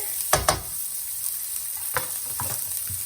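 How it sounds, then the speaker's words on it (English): Onions and green chilies frying in a pan with a steady bright sizzle, punctuated by several close scrapes and clanks of a utensil stirring. "I'm just gonna add the onions and the green chilies together"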